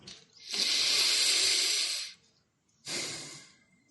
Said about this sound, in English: Let's take a breath.